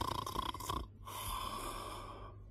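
A wolf snores in a fairy-tale sound effect, with two deep rasping snore breaths, loud and close, followed by a long drawn-out exhale and no talk over it.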